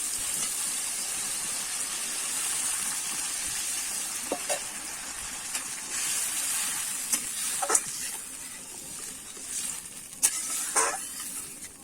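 Water poured into a pan of sizzling Rupchanda fish curry with whole tomatoes gives a steady, fairly quiet hiss and sizzle, broken by a few short sharp spits and crackles.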